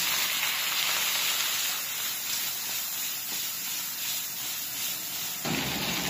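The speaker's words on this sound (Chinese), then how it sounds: "刚好最后一点油炒个菜" Chicken stir-frying in the last bit of hot oil in a wok, a steady close sizzling hiss that runs evenly throughout with a brief louder surge near the end.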